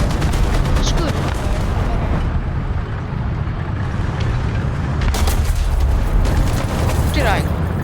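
Bursts of gunfire and booming shots in a War Thunder battle crackle and rumble loudly and continuously, with a few sharper volleys standing out, under a dense backdrop of game noise.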